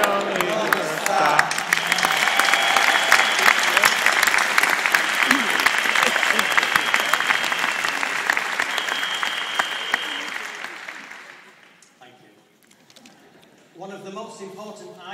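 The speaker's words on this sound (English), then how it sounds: "give her a massive round of applause" An audience at a Kleeneze retail event gives a big round of applause, dense clapping that holds steady for about ten seconds before fading away, with voices briefly heard at the start and a speaker talking again once it dies down.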